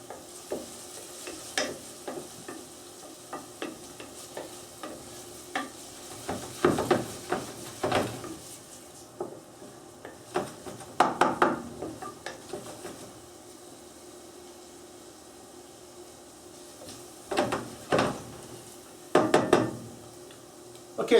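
Onions sweat in a pan while a spoon stirs them in bursts, scraping and clacking against the metal over a soft, low sizzle, close up and without speech.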